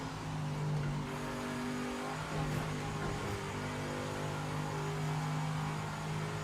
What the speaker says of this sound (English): I've been impressed with the sound of the cars.